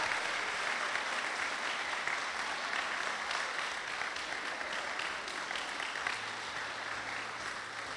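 Warm applause from a church concert audience welcoming a bishop at a parish anniversary, steady clapping filling the hall for the whole stretch.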